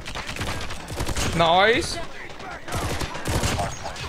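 Renetti burst SMG hipfired in COD Mobile during a ranked match, with quick clusters of sharp, loud shots fired in repeated bursts and a short spoken remark in between.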